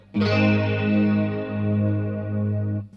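Electric guitar through a Strymon Mobius pedal set to a lush, wide stereo chorus: one sustained chord rings out for about three seconds, shimmering and full, then cuts off.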